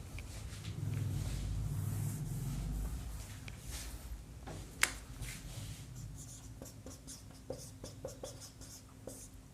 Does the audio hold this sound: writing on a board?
yes